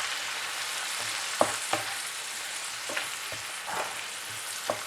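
Chopped tomatoes fry in a pan for a chutney served with idli and dosa, giving a steady hiss with several sharp spatula scrapes and stirs, close and alone.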